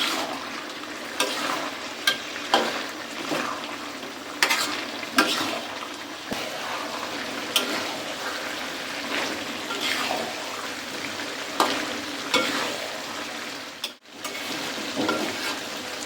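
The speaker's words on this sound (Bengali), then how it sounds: "ভালো করে নেড়ে চেড়ে মাছটা কুমড়োর সাথে মিশিয়ে নেব।" Fish and sweet pumpkin stirred together in a pan for a Bangladeshi curry, with continuous wet sizzling and repeated scraping strokes of a spatula, close and steady, with a brief pause near the end.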